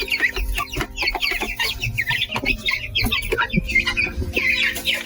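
Several chickens cluck and squawk close by while pecking at mealworms, with busy overlapping calls and scratching noises that continue steadily throughout.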